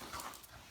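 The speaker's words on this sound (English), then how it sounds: "And the dog is having fun" A dog pants close by in quick, soft breaths during a brief moment, faint against a quiet room.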